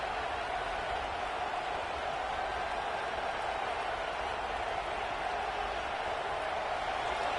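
Stadium crowd at a Texas Tech versus Texas A&M football game: a constant, broad roar of many voices that fills the whole stretch without pauses or distinct peaks.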